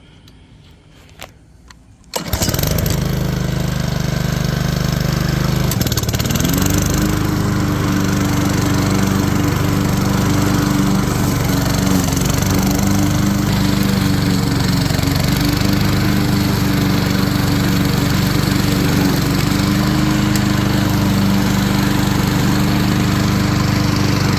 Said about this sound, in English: Now here is a real lawnmower